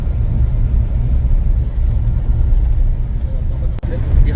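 A vehicle drives slowly over wet, slippery mud, its heavy low rumble loud and continuous from close inside, with a brief dip near the end.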